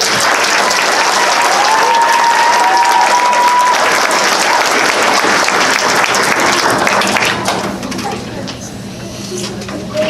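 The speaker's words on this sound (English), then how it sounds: "Would you please give a round of applause?" A crowd at a graduation ceremony applauds the graduating 8th grade class, loud sustained clapping with scattered whistles and cheers that thins out toward the end.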